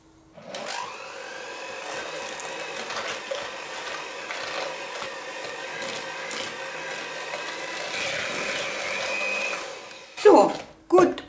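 An electric mixer whirs steadily for about ten seconds, blending sugar with vanilla sugar for a heart-shaped cake, its motor hum holding an even pitch, then it stops and a couple of clattering knocks follow.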